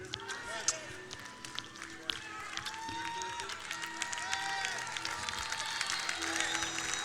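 A church congregation claps steadily while a preacher keeps speaking over it, the applause building from moderate to louder and denser over about seven seconds.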